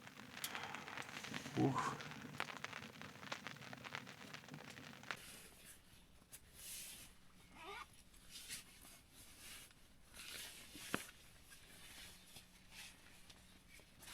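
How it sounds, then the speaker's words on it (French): Soft crackle of a campfire mixed with light rain pattering during fall tarp camping, a faint scattered ticking and rustling bed with a brief exclamation from a person near the start. "Le feu qui crépite, le feu qui crépite, la petite pluie."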